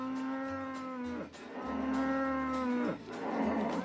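Cattle on a dairy farm in New Zealand low, drawn-out moos in two long calls with a short break between, close and loud with no talk.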